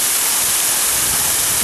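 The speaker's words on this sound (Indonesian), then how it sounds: "Curahan air terjun ini" A steady, dense rush of falling water at Aek Godang waterfall roars without a break, broad and even like a waterfall heard close by.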